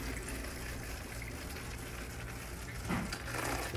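Tap water running into an empty milk carton to rinse it out, a steady close gush of flowing water with a brief louder splash near the end.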